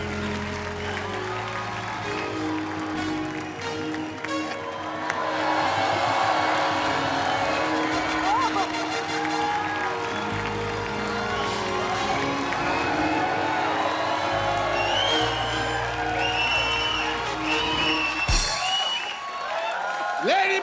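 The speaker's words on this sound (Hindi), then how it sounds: "जोरदार तालियां शाहरुख भाई" A large audience applauds and cheers for Shahrukh at a live event, with loud, dense clapping and whoops sustained throughout before trailing off abruptly near the end.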